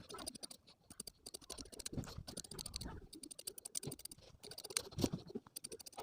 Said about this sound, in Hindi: फिर अब हमको काट देना है कपड़े को।